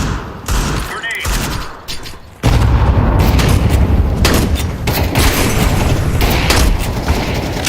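A grenade detonates in the video game Counter-Strike 2, a loud close boom that bursts in after a short quieter stretch and rolls into sustained heavy gunfire and blast noise.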